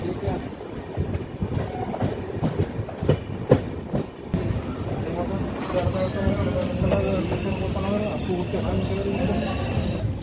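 Udyan Express 11301 from Mumbai CSMT to KSR Bengaluru pulling into Akkalkot railway station, a steady rumble of railcars and wheels with intermittent clacks and some squeal, fairly close, with voices murmuring in the background.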